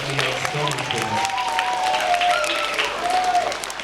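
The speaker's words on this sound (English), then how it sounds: "give my 3rd and 2nd grade chorus a giant round of applause, everybody" A school audience gives a round of applause for a 3rd and 2nd grade chorus, steady dense clapping in a hall with some voices and cheers mixed in.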